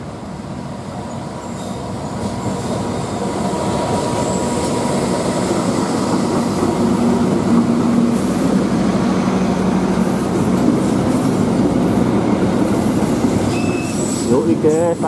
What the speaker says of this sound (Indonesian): Kalau ini Argo Labu berarti ini adalah kereta pertama yang melintas